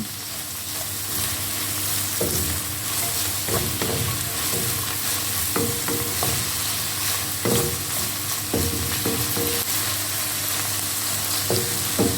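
Chicken liver fries with a constant sizzle, punctuated by scraping knocks of a utensil stirring the pan every second or two.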